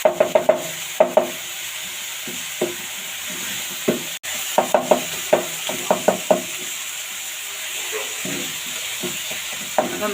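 Salt, cumin, red chilli and black pepper are stirred in a pan with quick clustered scrapes and taps against a steady sizzle, in bursts with short pauses, close and loud, with no talking.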